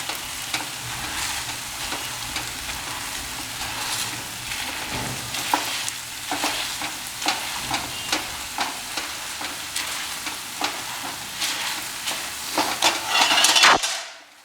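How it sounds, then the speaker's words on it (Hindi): Masala paste for mutton brain masala being mashed and stirred in a sizzling frying pan, a steady sizzle with repeated scraping and pressing strokes that swell louder near the end. "अब इस मसाले को मैं मैश कर लेता हूँ जिससे कि और भी बढ़िया बन जाए।"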